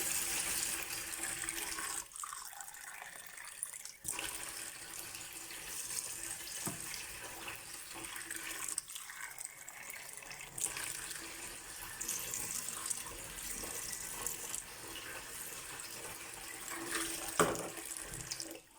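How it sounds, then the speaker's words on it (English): Tap water runs steadily into a cup beside a Tefal pressure cooker in a kitchen, a continuous close hiss and splash lasting the whole stretch with brief dips in flow. "Find the tap, fill it with water, and just throw it in."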